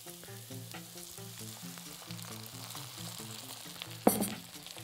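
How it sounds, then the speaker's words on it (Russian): Soft sizzling of onion frying in a pan runs beneath quiet background music, then a sudden louder burst of hissing erupts near the end as water is added. "Сейчас лук начнет жариться."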